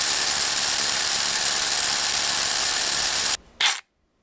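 A Ryobi One+ 18-volt SDS Plus brushless HP rotary hammer, model P223, drills steadily as a loud, harsh, unbroken roar. It cuts off abruptly, followed by one brief burst before silence.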